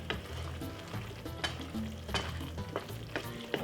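Beef and vegetables stir-frying for Caribbean pepper steak, a steady close sizzle with repeated scraping stirs of a utensil against the pan, no voices.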